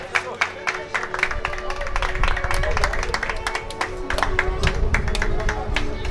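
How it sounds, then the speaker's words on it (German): Scattered clapping and crowd noise at a charity Muay Thai fight event at a trade fair, with sharp individual claps at first, then a denser stretch of applause mixed with murmuring voices. "Applaus bitte."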